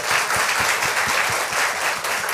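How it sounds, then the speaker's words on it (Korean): A room full of people applauding, a steady dense patter of claps with some louder individual hand strikes, continuous and moderately close. "박수 한번 주세요."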